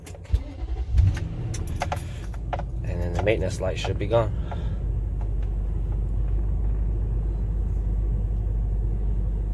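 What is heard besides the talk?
2005 Infiniti QX56 car engine starting and running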